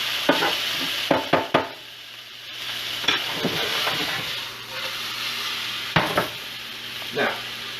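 Shrimp scampi sizzling in a pan while a utensil stirs and scrapes it, with a soft continuous fry and several sharp clinks and scrapes, close by with no talking.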